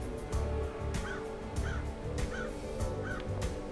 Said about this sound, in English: Bunch of crows over here.